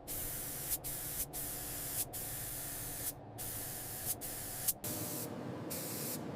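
Spray paint hisses steadily as a first coat goes onto a Formula 1 car under restoration, a close, continuous spray broken by short pauses between passes.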